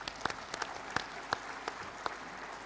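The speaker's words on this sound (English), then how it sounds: "Let's give a round of applause for the Task Force and Action Council" Applause for the Task Force and Action Council at the B20 Summit Indonesia 2022, heard as faint, sparse claps in a large hall, a few distinct hand claps spaced irregularly over a low background wash.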